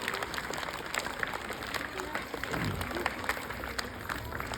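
Audience applause for a young singer named Alia, sustained and fairly faint, with a crowd clapping steadily throughout and some voices mixed in.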